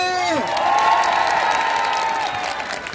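A large crowd at a Democratic Party political rally in an Incheon traditional market claps and cheers loudly and steadily for a few seconds, with a shouted voice fading out at the start.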